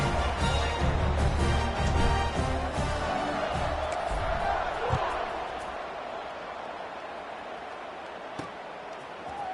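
A stadium crowd roars in the College Football 26 video game, a dense, sustained wash of cheering that fades slightly toward the end, with faint thuds and an announcer's voice mixed in.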